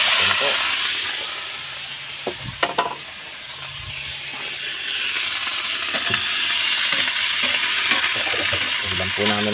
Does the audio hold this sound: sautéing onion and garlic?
yes